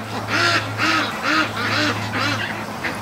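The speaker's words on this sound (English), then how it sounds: "The little duck train coming home." A small group of free-range ducks with a goose returns home, quacking loudly and close in a rhythmic run of about six or seven honking calls, one after another with brief gaps, under a low steady hum.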